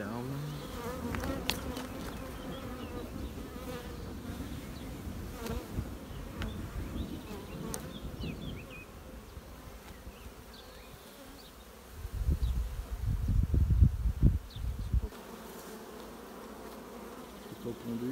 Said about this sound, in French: je souffle un peu sur les abeilles, ça les chasse.